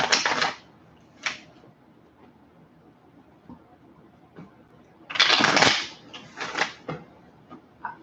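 A deck of reading cards is riffled and shuffled in several crisp, papery bursts, near and clear, separated by quiet pauses with soft taps.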